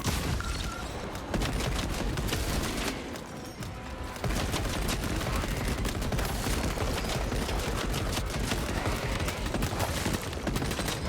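Bolt pistol gunfire in a Warhammer 40,000 video game, fired in rapid three-round bursts during a max-difficulty fight, loud and dense, with a chaotic battle din and a brief lull partway through.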